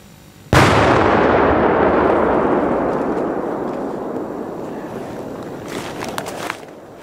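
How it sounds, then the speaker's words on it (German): A Polenböller firecracker detonating in a hollow in the ground, one sudden loud boom followed by a long rumbling decay over several seconds, with faint rustling near the end. "Der Knall wurde stark vermindert, da es in der Kuhle war."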